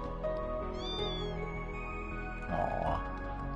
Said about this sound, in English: Aww. Cat.